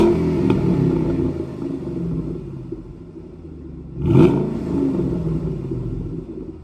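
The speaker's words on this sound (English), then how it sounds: "The exhaust tone, there's enough of it, but it doesn't take away from what I like about it." A 2014 Ford Mustang GT500 running on its stock exhaust gives a steady low idle rumble, then one sharp throttle blip midway that swells and settles back, close and unaccompanied by talk.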